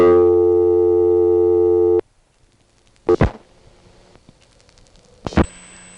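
A 1976 payphone line in Harrisonburg, Virginia sounds a loud steady tone for about two seconds. After a near-silent pause come two short bright chirping bursts, the second ending in a thin high tone.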